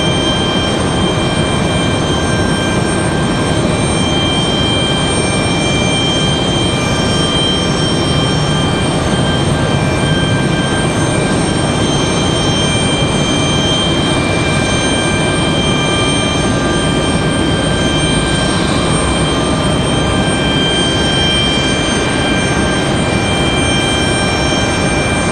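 Engines of a Boeing C-17 military transport aircraft at Raleigh-Durham airport, a sustained loud rumbling roar with steady tonal whine, unchanging for the whole stretch, no talk.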